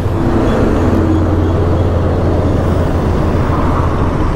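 A KTM RC motorcycle engine in first gear runs close by with a loud, steady low drone and a constant roar that holds its level throughout.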